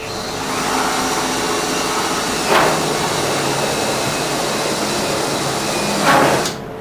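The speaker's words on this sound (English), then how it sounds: "I'm going to drill number 30 hole up from the bottom." A power drill bores a number 30 hole up from the bottom of an aircraft boot cowl. The motor whines steadily and continuously, with two brief louder bursts partway through.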